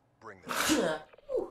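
One sharp, close sneeze bursts out amid casual talk between gamers.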